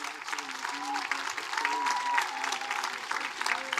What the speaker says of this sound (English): a round of applause for our sophomore class